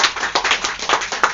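Wedding guests clapping hands at a church wedding ceremony in Summarecon Bekasi, a brief burst of about five loud, close claps in an uneven rhythm, with no talk over them.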